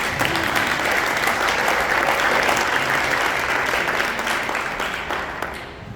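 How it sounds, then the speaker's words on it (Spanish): An audience gives Armando a full round of applause at a local history book presentation. The dense, close clapping stays strong throughout and then tapers slightly at the end. "Un aplauso a Armando."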